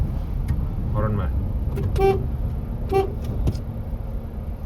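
Car horns toot in short bursts, several separate honks spread over a few seconds, amid a wedding procession with road noise and people talking around them.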